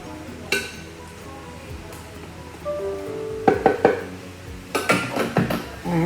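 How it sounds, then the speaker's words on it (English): Rubber spatula scraping the inside of a Thermomix bowl to push curried rice mixture down, heard as a string of close scuffs and knocks with a few clinks, busier toward the end. "So we're going to scrape this all in, as you can see there."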